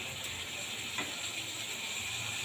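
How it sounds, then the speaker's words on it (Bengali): Spice paste with green chillies sizzles steadily in hot oil, a continuous crackling fry heard close up with occasional faint stirring scrapes and no voices. "আমি দেবো কাঁচা লঙ্কা একটু দিয়ে মশলাটাকে আর একটু কষিয়ে নেব।"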